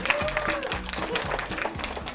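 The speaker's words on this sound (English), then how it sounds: "Round of applause, please, for them." An audience applauding after certificates and medals are announced at a cake-making semi-final, a short burst of steady clapping with a voice speaking over it.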